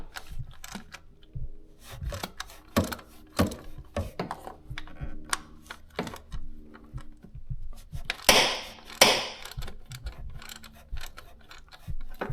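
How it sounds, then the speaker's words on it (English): A ratchet works loose the thermostat housing on a Chrysler Town & Country, with repeated quick clicking bursts and metallic ticks spaced through the clip and a denser rattle near the middle. "I can begin the process of remove my thermostat housing assembly."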